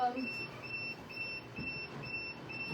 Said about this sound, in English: So it's going to beep until I fill her up.